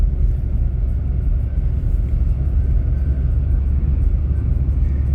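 Car climbing a snowy mountain road, a steady low engine and tyre rumble that stays constant and close throughout, with no voices.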